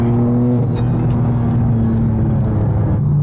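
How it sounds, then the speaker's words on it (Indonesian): A BMW M2 manual car engine rumbles steadily up close, its tone shifting as it blips through a quick rev-matched downshift, with no talking. "ini downshiftnya. Oh, dia punya rev match gila."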